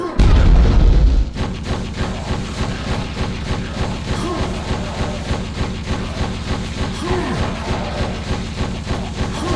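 A weapon in the N64 version of Quake 2 fires in a quick, steady rhythm after one heavy opening boom, each shot a thudding, launcher-like pulse repeating evenly and close for several seconds.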